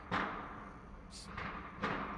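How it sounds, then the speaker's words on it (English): Two sharp, distant gunshots outside in New York City, about two seconds apart, with a brief hiss between them, over a steady background rumble. "it sounds like some gunshots going on outside"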